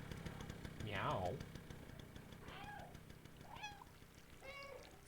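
A cat meows in the video game Stray, several drawn-out calls spaced across a few seconds, heard over a low engine-like hum and game background noise, with a person talking faintly underneath.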